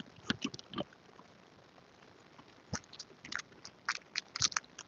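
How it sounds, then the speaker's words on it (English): Crisp crunching bites and chewing of crispy twice-baked potato skin close to the microphone, irregular bursts of crackle separated by quieter moments. "That's what the skin should sound like. Also, crispy, crunchy, delicious."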